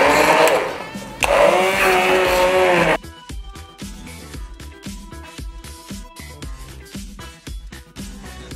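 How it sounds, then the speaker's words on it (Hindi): A hand blender grinding cooked drumsticks for soup whirs loudly for a few seconds, then cuts off, followed by busy clattering and rhythmic knocking close by. "अब हम इसे हैंड ब्लेंडर की हेल्प से इसे अच्छे से ग्राइंड कर लेंगे।"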